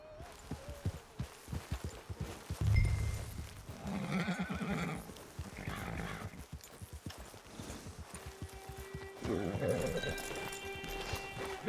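A horse in Red Dead Redemption 2 clops at a gallop near a camp, then lets out loud whinnies and snorts, hooves thudding and dropping to a walk, with voices talking over parts of it.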